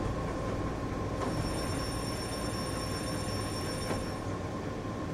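A train runs on rails in the video game Japanese Rail Sim: Journey To Kyoto, giving a steady, loud rolling rumble with a thin high whine over it and no talk.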